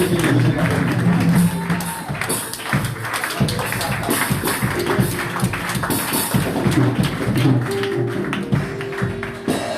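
A church congregation applauds, dense, energetic clapping from many hands that carries on steadily, with crowd noise and cheering mixed in.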